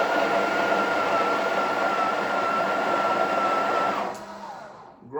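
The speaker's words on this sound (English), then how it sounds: "grind for about 5 seconds and get rid of that" A Breville Oracle BES980 espresso machine grinder grinds coffee beans in a steady, loud, close whir with a high tonal hum, running about four seconds before spinning down and stopping.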